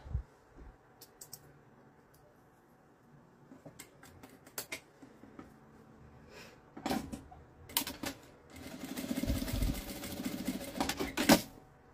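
A sewing machine stitches a fabric iron holder bag in short, quiet bursts of rapid clicking, then runs a longer, louder buzzing stretch near the end, with pauses and small handling sounds between.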